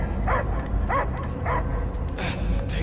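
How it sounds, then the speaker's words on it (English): Dog barking in a video game: four short, evenly spaced barks over a low rumbling game background, followed by a fainter whine. "I hear only barking."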